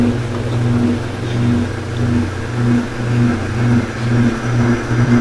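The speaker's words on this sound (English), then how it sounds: "this is my sound fan, and I'm going to show you what it sounds like, the motor and everything" A bedroom ceiling fan motor runs steadily with a low, even hum and a faint periodic pulsing whir, close by and constant with no talk.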